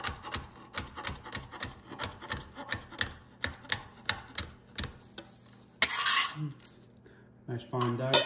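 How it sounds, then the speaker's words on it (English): Knife dicing green chilies on a cutting board, a steady run of quick, close, sharp chopping taps, followed by a brief scrape and clatter of the pieces being gathered. "So I'm just gonna dice up these green chilies."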